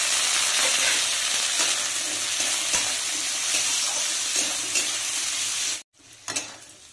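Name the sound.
frying chopped potatoes with half-fried onions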